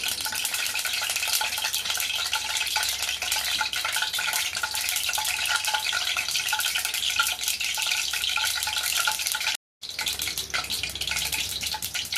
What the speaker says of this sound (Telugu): ఎండుమిరపకాయలు వేగినాయి